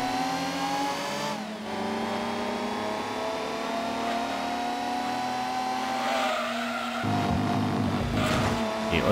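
Race car from Gran Turismo 2, a Venom hypercar, screams through gear changes, the engine revving up and dropping repeatedly while tires squeal near the end, loud and continuous.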